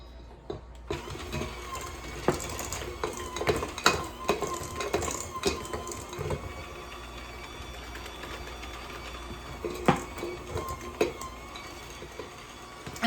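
An electric mixer runs on low speed, working flour into a crumbly nut cookie dough, giving a quiet mechanical whir with irregular knocks and clatters as the beaters hit the bowl.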